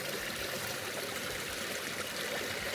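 A muddy stream flows steadily out of a tunnel-like hollow beneath tree roots, giving a close, continuous rushing and trickling wash with no breaks.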